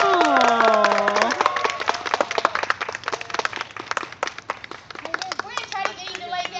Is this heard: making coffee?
no